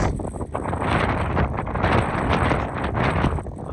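A Traxxas Stampede RC truck with a budget Onyx power system races at top speed outdoors, its motor whine and rushing wind noise loud and continuous throughout.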